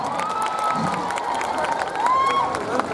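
A crowd cheers and claps to welcome a Thai singer back at a Thai festival in Tokyo, a steady wash of voices and shouts with a few whistle-like tones, heard close and fairly loud.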